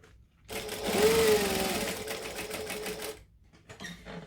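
A sewing machine stitches down the sides of a sling bag, a steady close whirring run of about two and a half seconds that starts abruptly and stops, with quiet handling before and after.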